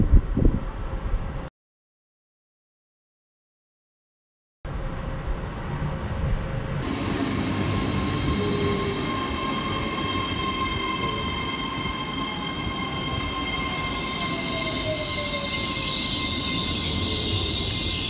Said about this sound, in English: There you go. Train is coming.